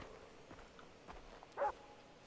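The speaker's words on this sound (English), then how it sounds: "I hear their little dog." A dog barks once, short and fairly distant, in Far Cry 3, standing alone against a quiet background of faint shuffling and game ambience.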